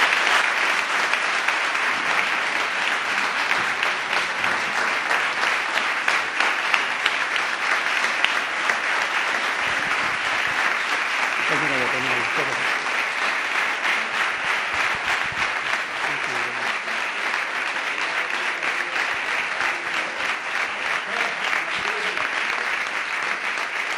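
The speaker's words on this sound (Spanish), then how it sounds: "Por eso ruego para ellos un enorme aplauso." Prolonged, hearty applause from the audience at a flamenco book presentation in Cabra, a thick continuous roar of clapping lasting the full stretch, with a few voices briefly audible underneath midway.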